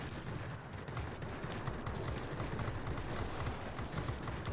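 Aircraft cannons firing in the World of Warplanes game on a Tu-1 plane, a dense continuous rattle of rapid shots mixed with engine roar, steady and fairly faint, with no talking.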